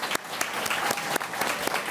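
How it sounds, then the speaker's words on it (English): An audience at a public forum in Montreal applauds steadily, a dense wash of clapping with no one speaking over it. "We'll give them a round of applause"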